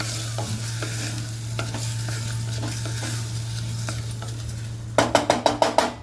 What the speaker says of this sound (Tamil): அந்த ரைஸை போட்டு ஒரு கிளறிக்கலாம்